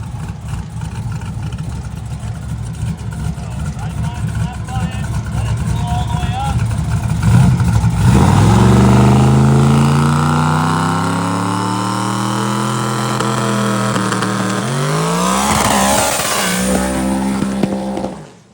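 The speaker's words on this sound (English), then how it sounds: "It has never done a burnout that big." A truck roars through a long, loud burnout, its engine revving hard and holding a sustained howl that shifts pitch as it climbs, while excited voices shout and exclaim over it.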